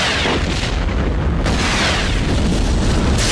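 A loud, continuous roar of blasts and rumbling explosions as vampires burst apart in sunlight in a film, with a sharp burst near the middle.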